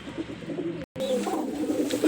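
Pigeons in a coop coo in low, throaty warbles close to the microphone, broken by a brief dropout, with rustling movement and more cooing afterward.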